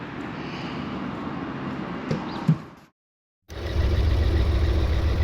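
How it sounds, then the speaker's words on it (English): A Vauxhall Omega with a 2.5 V6 running rough, heard up close as a steady, uneven low throb that cuts out briefly before the idle returns, with no voices. "I've been checking out the Omega because it's been running rough"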